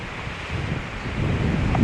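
Wind gusting across a snowy, cold trail with ice in the trees, a steady broadband rush that builds slightly louder toward the end, with no voices.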